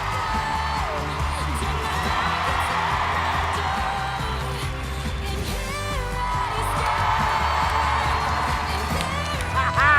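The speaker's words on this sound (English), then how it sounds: "Give them a round of applause." A loud, dense audience at a stand-up comedy show cheers and whoops continuously, with shouting voices layered over a steady roar of applause throughout.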